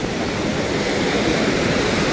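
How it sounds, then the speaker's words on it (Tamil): Rough sea waves at Arugam Bay, Sri Lanka, a dense continuous roar of surf, steady and close, with no voices. "இங்கே பார்த்தீங்கன்னா கடல் வந்து இப்படி உரப்பாக இருக்குது"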